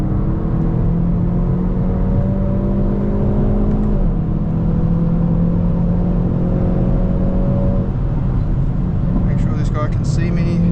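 A Hyundai i30 N engine pulls hard uphill on the Nurburgring, a steady loud drone with rising harmonics and a brief drop near the midpoint as revs shift, while wind noise stays constant throughout.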